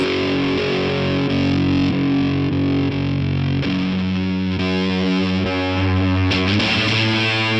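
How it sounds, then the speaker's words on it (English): Heavily fuzzed electric guitar chords ring out loud and saturated, sustained strums changing pitch partway through with a buzzy, compressed edge. "Let me go for a more fuzzy sound."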